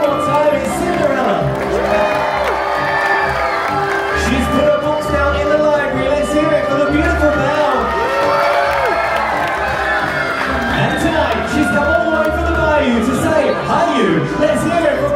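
Aboard the Disney Dream cruise ship, a loud crowd of adults and children cheers, whoops and shouts steadily for Princess Cinderella at a character appearance, a dense wall of voices throughout.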